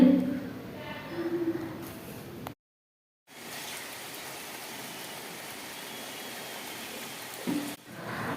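Steady rain hisses as a broad, even wash of noise, briefly cut by a moment of silence, then continuing unchanged.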